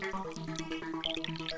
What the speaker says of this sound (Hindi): ये पानी इतना धीमा क्यों आ रहा है?